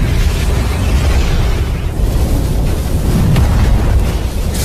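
A loud, sustained rumbling blast with dense low-end roar and crackling noise throughout, continuous and close, no voices.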